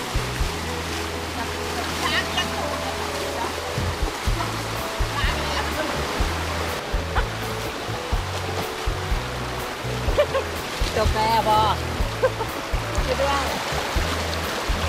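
The Chet Si rainbow waterfall in Bueng Kan, Thailand, gives a steady close rush of falling water with occasional splashes, as people talk throughout over it.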